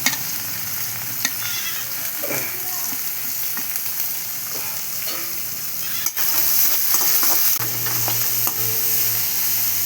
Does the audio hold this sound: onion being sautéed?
yes